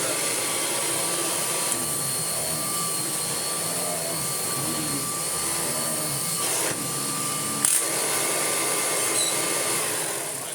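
A Kirby Heritage 1 upright vacuum cleaner with a struggling belt runs continuously on a rug with a loud, steady motor whine and whoosh, occasional bumps and shifts in pitch as it moves.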